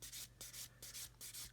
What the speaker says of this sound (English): So I'm going to come in with my smoother stick,